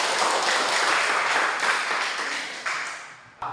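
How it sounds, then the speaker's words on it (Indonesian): A classroom group claps for a team, steady and fairly loud at first, then thinning and fading toward the end, with a sharp tap near the close. "tepuk tangan untuk kelompok 2"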